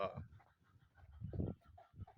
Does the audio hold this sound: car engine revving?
no